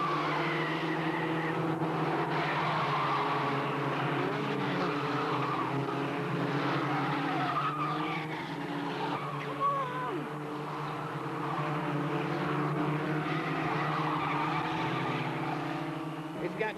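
Race cars roar around a track during a televised motor race with cars spinning off, a sustained engine drone with shifting pitch and a busy, crowd-like wash underneath.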